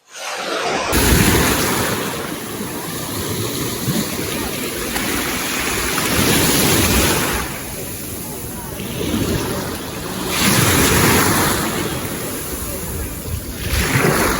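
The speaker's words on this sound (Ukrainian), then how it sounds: "Послухайте просто цей шум моря, він настільки заспокоює." Steady rush of sea surf breaking on a beach, swelling and fading in slow cycles, with wind noise on the microphone.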